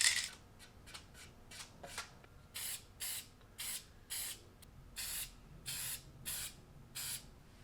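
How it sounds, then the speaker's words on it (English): Aerosol spray paint hisses in a series of short, evenly spaced bursts across the bottom of a skateboard deck, close and fairly loud, with a few quieter handling rustles between sprays and no talking. "I'm gonna very carefully spray paint on the bottom of it"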